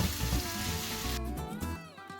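Chopped celery sizzles in a pan alongside onions and garlic, a close crackling fry that fades and thins out over its short length.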